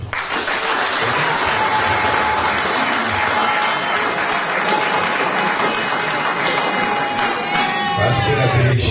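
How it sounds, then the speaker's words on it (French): Officials at a fiscal development gathering in Lualaba applaud themselves, a loud, steady roar of clapping with crowd noise and a few cheers, a whistle-like tone running through it. "Je dois devoir vous féliciter et vous demander que vous puissiez vous applaudir."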